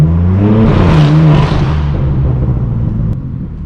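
A straight-piped BMW M4 F82 with a loud exhaust revs hard and near, its rough, booming note rising and then settling into a slowly fading rumble.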